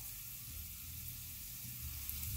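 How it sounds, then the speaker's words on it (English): A soft, steady sizzle of cheeseburger spring rolls frying in oil in a pan, quiet and continuous with a low background rumble and no talking. "we're putting these little babies into the frying pan with some oil"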